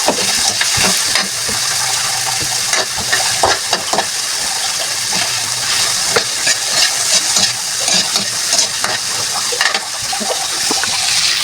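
Bitter gourd and tomatoes sizzle and fry steadily in a pan, with the scrape and clatter of stirring breaking through the continuous hiss at close range.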